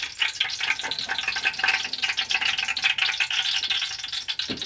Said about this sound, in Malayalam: വെളിച്ചെണ്ണയിൽ ഇങ്ങനെ ഉള്ളി കിടന്നിട്ട് ഇങ്ങനെ ഇതായിട്ട് വരികയാണ്